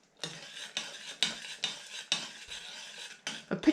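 A spoon scrapes and knocks around a pot of softened pulses being stirred toward a Roman-style puree, a run of regular rhythmic strokes, close and fairly quiet, with no voices.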